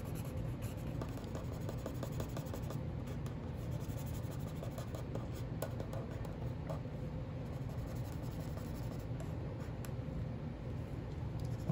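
A pencil scratches steadily across a paper page while laying in black shading for an inked drawing, producing a continuous, quiet, close-up rubbing with small irregular strokes.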